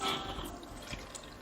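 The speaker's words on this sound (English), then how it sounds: "And I'm just going to pour all the milk into this." Milk being poured into a container for a weight-gain drink, heard as a short, soft liquid trickle and splash, faint and close, without talk.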